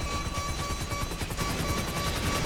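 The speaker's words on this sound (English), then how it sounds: "Got a helicopter, guys!" Helicopter in the video game GTA Online, its rotor beating in a rapid, regular chop that is loud and close, running steadily throughout with no voices over it.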